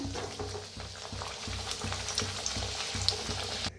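Fenugreek puris deep-frying in hot oil give a steady, dense sizzle and crackle that runs throughout, close and fairly even, with faint soft thumps underneath.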